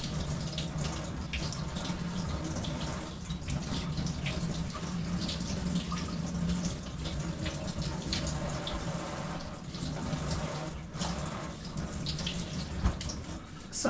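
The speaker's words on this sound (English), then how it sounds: "So I'm done with the washing of my veggies." Tap water runs continuously into a sink while mixed vegetables are washed for a stir fry, a steady splashing stream with small clatters and drips throughout.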